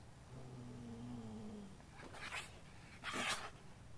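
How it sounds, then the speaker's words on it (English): A cat hidden in a hole in the game Scratches gives a low drawn-out growl, followed by two short harsh hissing bursts, close and fairly faint. "There's also a nasty cat in there as well."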